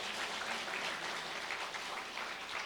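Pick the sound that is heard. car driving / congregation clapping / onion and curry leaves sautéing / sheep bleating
congregation clapping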